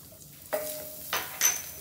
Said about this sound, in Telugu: ఈ బటర్లో ఈ గార్లిక్ వేసి ఫ్రై చేసుకుంటే చాలా టేస్ట్ ఉంటుంది